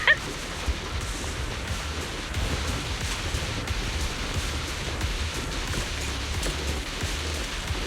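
Rain falling in the video game Zenless Zone Zero, a constant soft hiss of downpour with no breaks, fairly faint and steady throughout.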